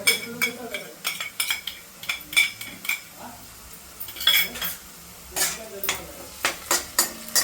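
Ginger garlic paste frying with onion in a pan, sizzling under repeated scraping and clinking strokes of a spoon against the metal in an uneven stirring rhythm, close and fairly loud.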